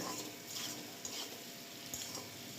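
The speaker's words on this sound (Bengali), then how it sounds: "দেখো আমি নেড়ে চেড়ে ভেজে নিচ্ছি" Taro (gathi kochu) with salt and turmeric being stirred and fried in a pan over a medium gas flame: a steady, faint sizzle with soft scraping stirs rising briefly, no voices.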